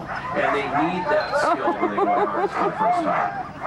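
Sled dog puppies barking and yipping excitedly in quick overlapping bursts, fairly close, mixed under a person talking steadily.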